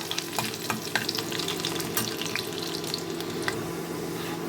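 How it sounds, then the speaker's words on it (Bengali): Chopped garlic sizzles steadily in hot oil in a home kitchen, a continuous close frying hiss with small crackles and occasional stirring clicks, no voices. "এখন এই রসুনটাকে হালকা একটু ভেজে দেবো"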